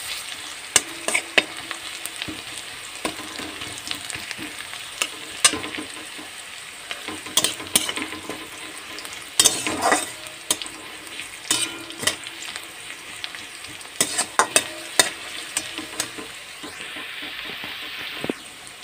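Rohu fish head frying and being stirred in a pan, with a steady sizzle broken by repeated scraping strokes of a utensil against the metal, close up and without voices.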